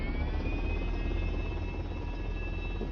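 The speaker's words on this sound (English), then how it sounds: "We can start our propellers straight away. Just give them a little bit of a nudge to get them moving." Propellers spin up on a glider in a virtual reality flight game, a steady droning engine hum with a continuous whine on top, even in level and unbroken for the whole stretch.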